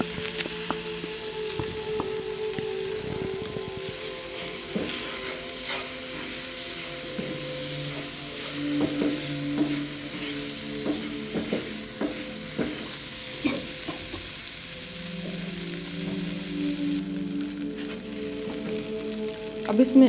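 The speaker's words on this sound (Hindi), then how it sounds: "इसे थोड़ी देर घी में ब्राउन करें।" Steady sizzling of shredded chicken browning in ghee, with repeated scraping and stirring knocks throughout, close up and continuous.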